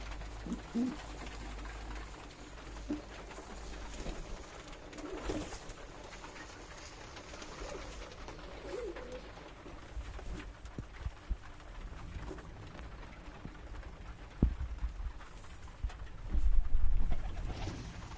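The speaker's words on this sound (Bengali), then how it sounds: "আমার কাছে গিরিবাজ আর রেসার কবুতর আছে" Giribaz and racing pigeons coo softly and repeatedly amid low background noise at a pigeon farm, with occasional light rustles and a brief louder burst near the end.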